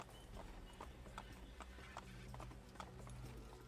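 Horse hooves clip-clop at a steady trot in the Assassin's Creed video game, a rhythmic run of soft thuds over a constant low rumble, heard without talk.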